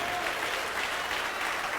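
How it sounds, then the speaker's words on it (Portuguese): A church congregation applauds together in steady, dense, loud clapping that fills the room without a break. "dê para esta palavra eterna a melhor salva de palmas de toda a sua vida"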